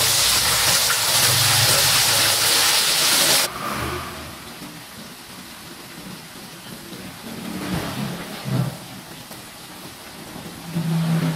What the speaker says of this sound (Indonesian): Sebagiannya lagi kita goreng sampai ayamnya habis